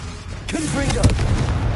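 Confringo blasting spell in Hogwarts Legacy erupting in a booming burst with a sharp crack and a rumbling tail, amid other game effects and a spoken spell call.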